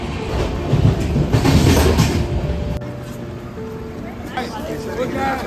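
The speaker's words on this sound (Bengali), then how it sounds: "সকাল হতেই ঘুম থেকে উঠে দেখি ট্রেন চলেছে ঘন কুয়াশা ভেদ করে" The Shalimar-Gorakhpur Express runs through thick fog, heard from inside as a loud rumbling roll with rhythmic clatter that fades and settles into a quieter hum, with people talking in the carriage.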